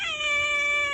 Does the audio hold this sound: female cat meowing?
yes